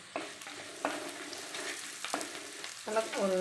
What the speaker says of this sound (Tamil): 3 பல் பூண்டு நல்லா தட்டி வச்சுருக்குங்க, அதையும் போட்டு வணக்கிக்கலாங்க